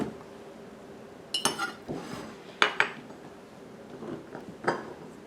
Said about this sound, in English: I get a jar. I'm putting my canning salt in here.